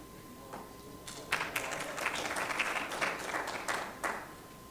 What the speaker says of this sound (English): Big round of applause for Supervisor Baca